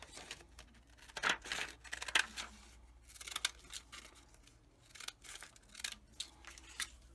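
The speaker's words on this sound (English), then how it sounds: "Take my decorative scissor and I'm going to cut around that." Decorative craft scissors cut around paper for a junk mail journal, giving a series of faint, crisp snips and rustles at uneven intervals, close by and quiet, with no speech.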